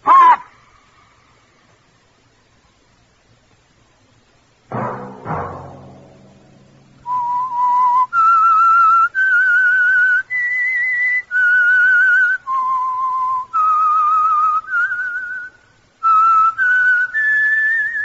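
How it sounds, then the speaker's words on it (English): Whistled theme signal of The Whistler radio show, a lone clear whistled melody of sustained notes in short phrases, loud and close, following a brief musical sting. "Whistle be your signal for the Signal Oil program, The Whistler"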